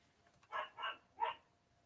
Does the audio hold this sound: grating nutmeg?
no